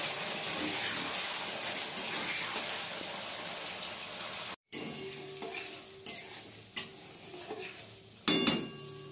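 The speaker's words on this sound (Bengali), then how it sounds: "এরপর আমি পনিরগুলো ভেজে নিচ্ছি।" Paneer pieces fry in a hot pan, giving a loud, dense, steady sizzle that drops off briefly midway and returns softer, with a few sharp clinks of a spoon against the pan near the end. No voices.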